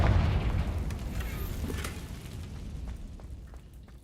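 A Confringo blasting spell goes off in the Hogwarts Legacy video game: a loud, deep boom right at the start that rumbles and slowly fades over several seconds, with no voices.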